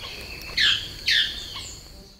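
Song of a wild hybrid between a rendeira and a tangará manakin, heard as two bright, loud chirped notes about half a second apart, followed by a fainter trailing call over soft insect-like background hiss.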